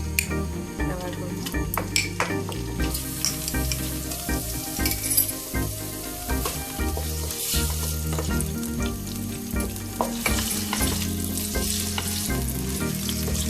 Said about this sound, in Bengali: জাস্ট হালকা একটু আমি ভেজে নেব।